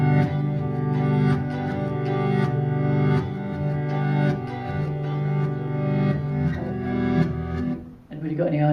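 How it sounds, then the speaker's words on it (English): Reversed guitar recording with swelling, sustained chord tones that rise into each attack, steady and fairly loud throughout before a sudden drop and change near the end. "It's actually a backward guitar."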